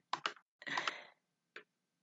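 A few close keyboard clicks as a website address is typed, two quick taps, a short cluster of keystrokes, then a lone final tap in a quiet room.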